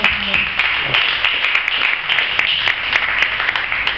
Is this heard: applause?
yes